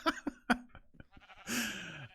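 Faint clicks and taps lead into one clear, drawn-out sheep bleat near the end, from a sheep farm in Minecraft 1.21.5 survival mode, heard alone at moderate volume.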